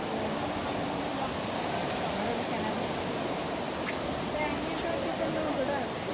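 Floodwater from Mandampotti rushes past a house yard during the 2019 Kerala floods, a steady broadband roar like a torrent that stays even throughout, with faint voices in the background.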